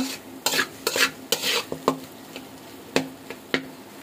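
Chicken fried rice with egg frying in a pan, a close sizzle broken by sharp, irregular scrapes and knocks of a spoon or spatula stirring the pan, with no one speaking.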